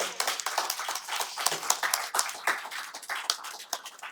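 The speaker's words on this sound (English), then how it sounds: "would you all join me in a round of applause" An audience claps at a public-service event, a dense run of applause from a crowd at moderate distance that holds steady for a few seconds without any speech.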